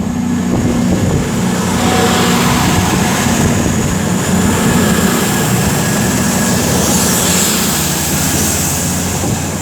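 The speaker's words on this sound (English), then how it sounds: "that's kind of what you expect when it's a diesel train" A passing diesel train, its heavy engine rumbling steadily nearby, a loud continuous drone with hissing and clattering that holds throughout, at Tamworth station on the West Coast Main Line.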